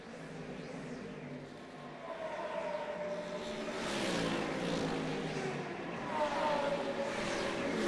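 Mercedes and Audi GT race cars roar past on the Macau street circuit during the GT Cup race, a steady loud engine rush with rising and falling pass-bys building toward the end, no voices.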